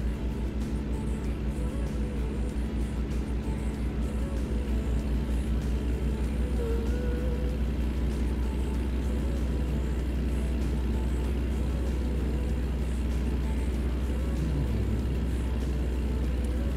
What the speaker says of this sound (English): The engine sounds god-awful